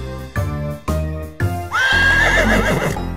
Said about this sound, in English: A horse is in the barn